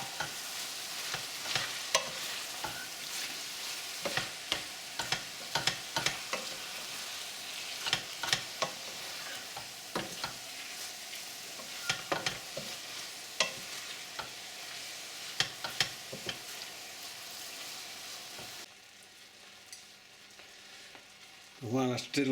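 Lasagne base frying in a pan over turned-up heat, stirred with repeated clacks and scrapes of a utensil over a continuous soft sizzle, alone and close, ending in a brief quieter stretch.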